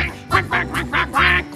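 A human voice imitates a duck in a children's song, a rapid run of five or six nasal quacks sung close and loud in an even rhythm.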